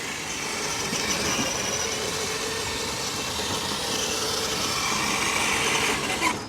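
Small RC trail truck electric motor at full throttle on its included 2S battery, a steady, fairly loud broadband whir and drivetrain rattle running continuously without pause.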